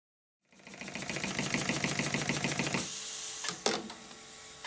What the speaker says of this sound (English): a small twin-cylinder marine steam engine which runs but makes a lot of mechanical noise when doing so